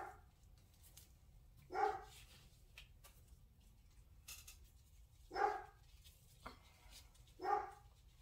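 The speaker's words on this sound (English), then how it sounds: "my dog is barking outside if you can hear that" A dog barks outdoors at a distance, with four separate faint barks spaced a few seconds apart over a quiet background.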